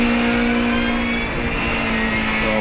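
Formula Student electric race car E69 from UAS Augsburg rejoining an endurance event, a loud steady high-pitched motor whine held throughout with a slight pitch shift.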